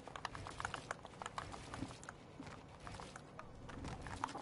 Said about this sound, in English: I'm playing on my keyboard and mouse.